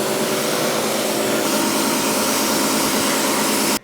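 Continuous loud spray of a pressure-washer water rinse over a car after a Bilt Hamber Touchless pre-wash, a dense hissing rush with a motor drone underneath, steady and close until it cuts off at the end.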